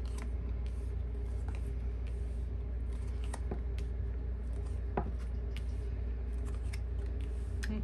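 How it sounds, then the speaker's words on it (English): Tarot cards are separated and handled in soft, sporadic papery clicks and rustles, close and quiet against a steady low hum. "let's go ahead and separate the cards and we'll start drawing some"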